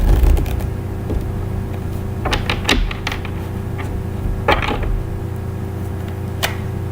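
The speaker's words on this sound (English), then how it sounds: "let me just shuffle for a few moments" Tarot cards are shuffled by hand in soft, scattered riffles and taps that bunch into a few brisk bursts over a low steady background hum, with no speech.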